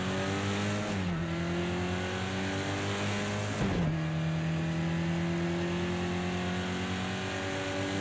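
Race car engine in Project Cars 2 at Imola, a loud sustained drone that drops in pitch twice around gear shifts and then steadies, continuous with no talk.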